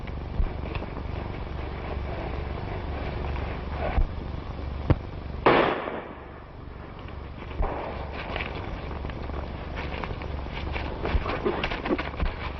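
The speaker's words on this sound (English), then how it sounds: "I tell you, I heard a shot." A single sharp gunshot from a 1936 western film rings out in an otherwise quiet outdoor scene, one loud crack standing alone with faint background hiss and a few smaller knocks around it.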